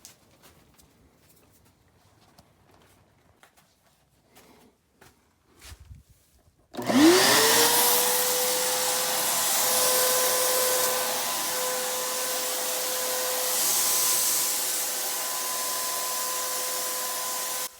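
An Avanti two-stage paint sprayer from Harbor Freight sprays paint outdoors, starting abruptly after quiet and running as a loud, steady whooshing hiss with a rising motor whine that holds level to the end.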